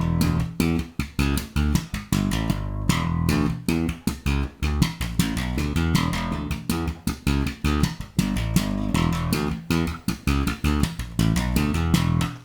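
Electric bass playing a busy line with double-thumb slap technique, a steady stream of percussive sixteenth notes with snapping attacks and deep low notes, loud and solo throughout.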